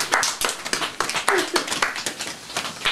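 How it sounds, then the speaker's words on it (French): A small group claps for a child in a classroom, a ragged run of close, sharp hand claps that keeps going for about three seconds. "On applaudit Uranus."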